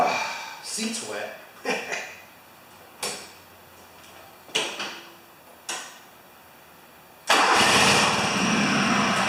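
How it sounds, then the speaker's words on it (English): A John Deere LX178 lawn tractor engine, running very rich, trying to start: several short cranking bursts separated by pauses, then the engine catches and runs with a loud, rough, continuous sound. "see if the tractor starts"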